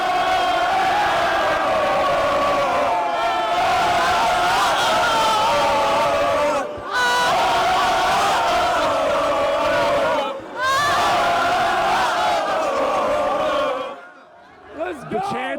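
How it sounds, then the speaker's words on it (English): Packed crowd on Kirkwood celebrating Indiana's national championship, a dense roar of cheering, whooping and chanting voices that fills the scene continuously, with a couple of brief dips. "Listen to the crowd!"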